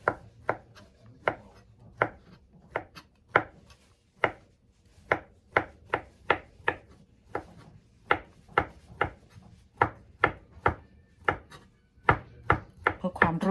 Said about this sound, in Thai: หั่นพร้อมกันเลยค่ะทุกทุกคน